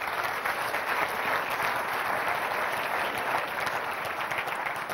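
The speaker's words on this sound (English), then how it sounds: "Let me have one round of applause for Christian for doing a fantastic job so far in moderating our session." An audience at a Zeitgeist 2008 conference session claps in steady, dense applause that carries on evenly without a break for the whole stretch.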